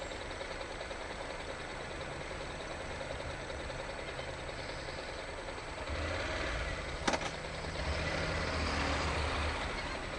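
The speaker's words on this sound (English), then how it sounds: "And we'll just sit here in traffic and watch Florida go by for a few minutes." Steady low rumble of Florida road traffic during Bike Week, with engines idling nearby, a heavier vehicle pulling close partway through and a brief clack near the end.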